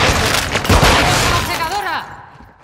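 A flashbang grenade thrown and detonating in Call of Duty Modern Warfare 2, a short loud bang with a shattering burst that rings and fades over about two seconds, with voices and game noise around it.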